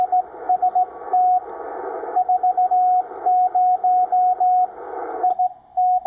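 Audio from a Ten-Tec Omni VI radio receiver through a Timewave DSP-9 with noise reduction on: a steady hissy band and repeated on-off beeping tones in a keyed rhythm, fairly loud, with no speech.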